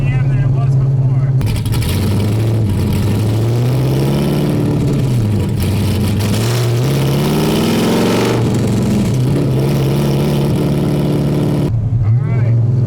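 An LS3 V8-swapped Mazda Miata with longtube headers and titanium exhaust revs hard, a loud, close engine roar climbing and falling in pitch through several pulls before easing back to a rumbling idle.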